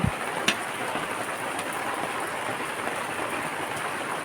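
Light drizzling rain falling outdoors, a soft, even hiss that continues without a break, with one faint tap near the start and no voices.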